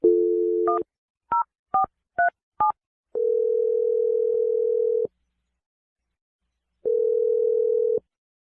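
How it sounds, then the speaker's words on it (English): A telephone line hums with a steady dial tone, then a quick run of six touch-tone keypad beeps, followed by two longer tones separated by a silence, loud and close with no talking. "I'm gonna dial the number right now."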